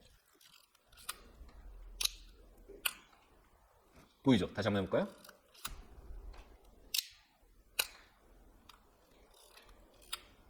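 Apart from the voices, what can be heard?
film camera mirror and shutter firing on long exposure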